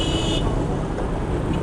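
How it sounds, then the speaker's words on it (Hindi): Road traffic in a jam on a rainy street with motorcycle rickshaws and buses, a dense close rumble of idling engines with a brief high tone near the start and no voices. "ये सामने आप देख रहे हैं कि ट्रैफिक जाम है।"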